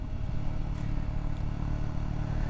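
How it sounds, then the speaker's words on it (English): Triumph Scrambler 400 motorcycle engine braking in third gear, a low steady engine drone with rumbling road noise and faint wind, no voices. "third gear. Good engine braking. I like that. It's real secure engine braking."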